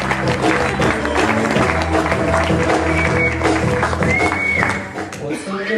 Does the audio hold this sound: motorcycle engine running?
no